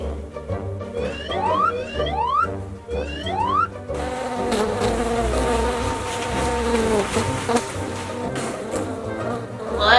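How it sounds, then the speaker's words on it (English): A bee buzzes close by in a children's comedy skit, the whine rising and falling in several swooping passes before giving way to busier background noise. "I will catch the bee."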